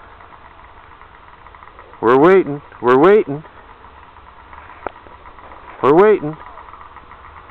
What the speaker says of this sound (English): The boys are all lining up for a big honking drag race. Five sleds.